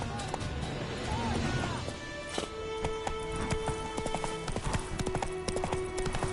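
A horse gallops in The Witcher 3, its hooves clip-clopping in a fast, steady rhythm close up, with occasional heavier impacts and a brief voice over the game audio.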